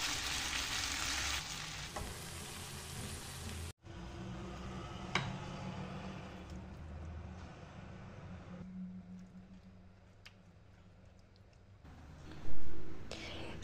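Finely chopped onion with a little salt and three crushed garlic cloves fries in a pan, a loud sizzle at first that cuts out and returns as a softer, steady frying with occasional stirring clicks.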